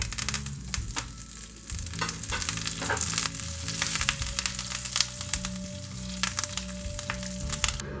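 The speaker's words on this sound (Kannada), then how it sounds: "ಸ್ವಲ್ಪ ಕರಿಬೇವು ಇದಿಷ್ಟು ಹಾಕ್ಬಿಟ್ಟು ಸ್ಟವ್ ಆಫ್ ಮಾಡ್ಕೊಂಬಿಡೋಣ ಯಾಕಂದರೆ ಅದು ಹಸಿಮೆಣ್ಸಿನ್ಕಾಯಿ ಸಿಡಿಯುತ್ತೆ" Slit green chillies and curry leaves spluttering in hot oil for a tempering on Andhra-style chicken 555, a dense crackle of sharp pops and steady sizzle, close and continuous with no talk.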